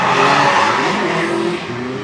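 A C6 and a BMW drifting in tandem on a track, their tires squealing loudly and continuously over revving engines, close and intense for a brief stretch.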